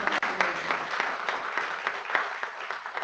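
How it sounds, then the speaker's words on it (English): Audience applause at the close of a lecture-series talk, a continuous dense round of many hands clapping, fairly even and moderately loud. "Let's give one more round of applause."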